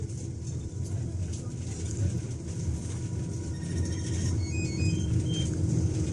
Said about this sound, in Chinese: 草塘河大桥，大巴车正在桥面上行驶